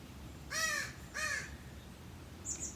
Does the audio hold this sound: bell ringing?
no